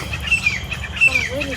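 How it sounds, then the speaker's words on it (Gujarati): Birds squawk at a farm at sunset, a few short, harsh calls close by in quick bursts over a quiet background. "જો પક્ષીનો કેવો અવાજ આવે."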